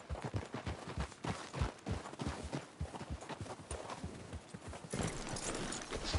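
Horse hooves clip-clop steadily and briskly, close by, in the video game Red Dead Redemption 2, with scattered rustling and a brief burst of louder movement near the end; no talking.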